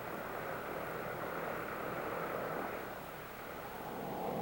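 A fixed-wing airplane in flight on an aerial observation mission, its engine giving a steady, even drone that stays constant at moderate loudness with no breaks.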